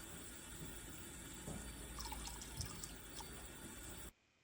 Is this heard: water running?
yes